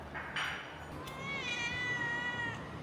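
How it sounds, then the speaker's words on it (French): Several cats meow at a house in Lombok, the cries rising and wavering, fairly close and clear over a low steady background hum, with no talking. "J'entends les chats."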